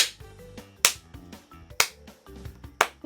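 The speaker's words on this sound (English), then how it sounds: "That needs a slow clap." A slow clap: four sharp, loud, evenly spaced hand claps about a second apart, heard over faint background music.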